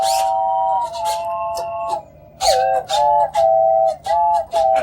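Bright tones from a polyphonic electronic whistle synthesizer play a melody, with several notes sustained together in layered harmony, a pause, then short repeated phrases.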